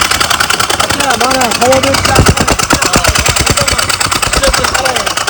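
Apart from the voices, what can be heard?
motor engine started with one switch, running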